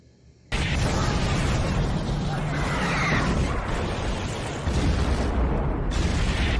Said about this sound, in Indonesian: desanya diserang oleh tentara Hattori dengan meriam